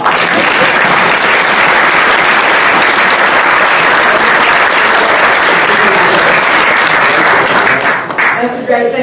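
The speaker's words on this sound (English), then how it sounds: "they deserve a round of applause" A graduation-ceremony audience for a GED class claps in loud, steady applause that fills the hall without a break, thinning slightly near the end.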